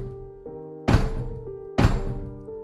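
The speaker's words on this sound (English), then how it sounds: "She heard a bang after bang as the man tried to smash down her front door." A man bangs on a front door to smash it down, two heavy, booming thuds about a second apart, loud and close, set over a low sustained drone in a dramatic sound effect.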